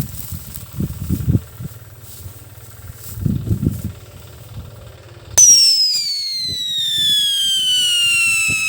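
A homemade DIY 'Scream Yakult' firecracker goes off after low background rumbling, letting out a sudden, loud, shrill screeching whistle that slowly falls in pitch and carries on for several seconds.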